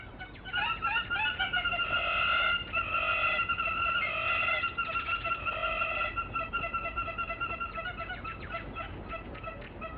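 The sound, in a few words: hammerkop (lightning bird) call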